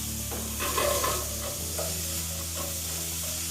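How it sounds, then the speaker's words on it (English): Onions and mushrooms cooking in a hot pan as the base for a beef pie sauce, with a steady soft sizzle and occasional stirring scrapes, close and continuous throughout. "In another pan, we're going to cook some onions and some mushrooms to make the base and the flavourings of our sauce."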